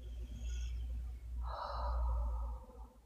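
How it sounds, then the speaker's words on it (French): A slow, deep exhalation during a guided breathing exercise: a soft, breathy rush of air that swells midway and trails off, heard alone in a quiet room. "expiration profonde."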